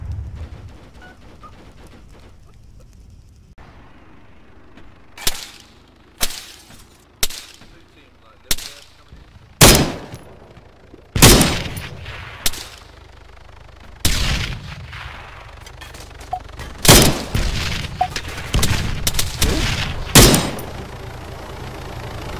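Gunfire in the military shooter Arma 3: a string of sharp shots, some single and some in quick pairs, loud and close over a low ambient bed, with a few fainter distant reports between them.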